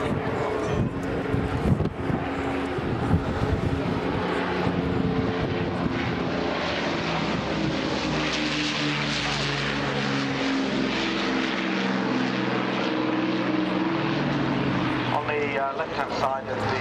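Old propeller-driven bomber flying past at the Waddington International Air Show, a steady loud engine drone with wind noise throughout, with people talking nearby over it.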